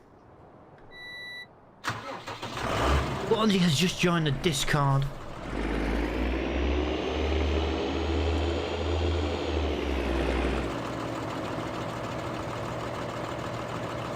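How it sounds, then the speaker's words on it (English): Tractor engine in a farming video game, starting up and then holding a loud, steady low drone that eases slightly near the end, with a person talking over the start. "this tractor is so loud"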